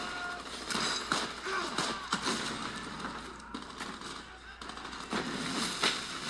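Battle gunfire from the war film Hacksaw Ridge, a dense stream of rifle and machine-gun shots cracking in rapid bursts with heavy impacts, moderately loud and sustained across the clip.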